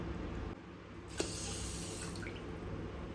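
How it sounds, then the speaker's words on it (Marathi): Water poured from above onto sugar in a vessel to make syrup for gulab jamun, a soft, steady, close trickling stream after a small splash, fairly quiet and with no voices. "तर चला आता यामध्ये पाणी घालूया आपण"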